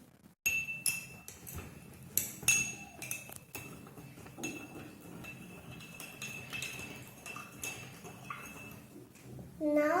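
A spoon stirs salt water in a glass, clinking against the sides in quick irregular taps over a faint background hum, with a brief louder clatter near the end.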